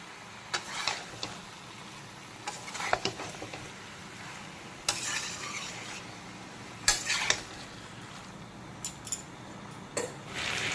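Fried shrimp being stirred into vegetables and spices in a pan for a Bengali jhinge (ridge gourd) curry, with scraping and clinking spoon strokes in irregular bursts over a faint sizzle, close and fairly quiet, no talking.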